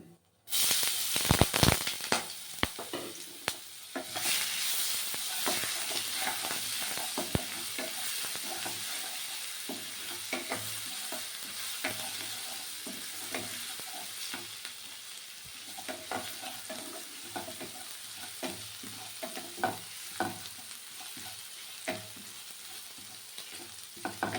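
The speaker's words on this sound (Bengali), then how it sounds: "রসুনটা হালকা ভাজা হয়ে গেছে" Crushed garlic with black cumin seeds frying in hot oil in a wok, a steady close sizzle and hiss with scattered stirring clicks and scrapes running throughout, no voices.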